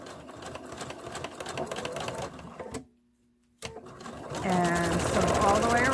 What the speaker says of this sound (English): And sew all the way around.